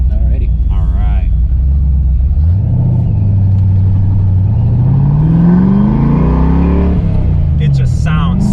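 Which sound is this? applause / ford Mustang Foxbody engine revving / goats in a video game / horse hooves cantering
ford Mustang Foxbody engine revving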